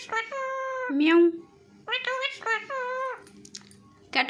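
A talking parrot imitates a cat, giving several drawn-out meows in a close, clear, nasal voice with short pauses between them.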